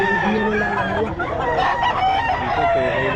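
Roosters crow over clucking chickens at a poultry sale in Taguig, several overlapping birds close by, with people talking in the background.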